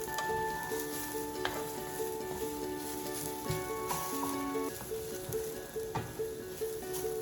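Steady sizzling of yellow lentils roasting in a hot pan, with faint scraping and stirring sounds running through it.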